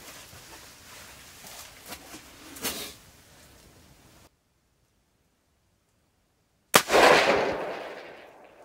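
A rifle fires at a long-range target outdoors: a sharp loud report follows several seconds of near silence and then rings out and decays, with faint rustling and soft wind noise earlier.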